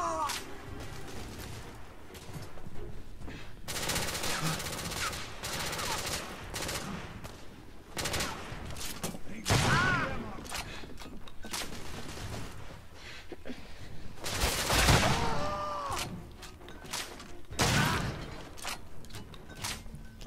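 Shotgun blasts from a third-person shooter firefight in Victorian London, several loud broadband bursts spaced a few seconds apart over a dense background of battle noise.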